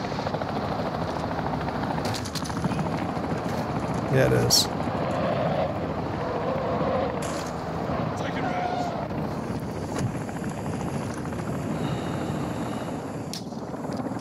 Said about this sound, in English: The exfil chopper's already landed.